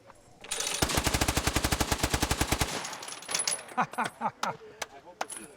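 A hand-cranked Gatling gun fires a fast, loud burst of about twenty evenly spaced shots lasting roughly two seconds, followed by scattered metallic clinks and rattles as brass casings drop and settle.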